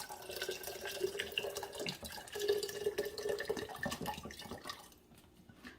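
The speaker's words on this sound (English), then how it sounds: "I'm gonna pour in about a cup of the mango margarita flavor" Mango margarita mix pours steadily into a cocktail glass, a continuous close liquid splash and trickle lasting several seconds before tapering off near the end.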